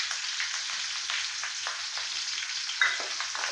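Red and green chilies frying in hot oil with fennel and cumin seeds for a carrot rice tempering, giving a steady, close, bright sizzle with small crackles throughout and no talk.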